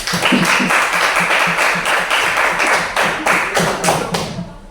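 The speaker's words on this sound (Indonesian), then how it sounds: "tepuk tangan untuk kelompok Zara" A class claps for a student group in a rhythmic, unison beat of loud, evenly spaced claps, close by, that slows and fades at the end.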